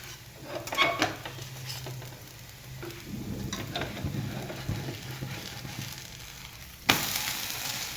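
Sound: thalipeeth flatbread frying on a pan after flipping

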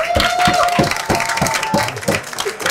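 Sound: audience applause

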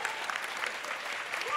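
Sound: audience clapping for a quiz team

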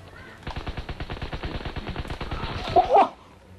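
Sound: gunfire in video game Call of Duty WW2

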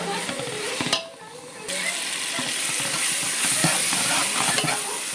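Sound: chili powder sautéing in oil for sambar

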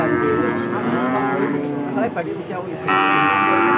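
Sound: cattle mooing at a livestock market

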